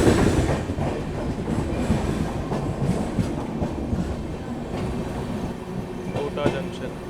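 Rajdhani Express (12431, Trivandrum–Nizamuddin) running on rails, a steady loud rumble with rhythmic wheel clatter throughout, heard from on board.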